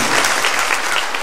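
Congregation at a December 8 feast-day Mass in Santa María Chigmecatitlán, Puebla, giving strong, steady applause inside the church, a dense and loud wash of clapping with no break.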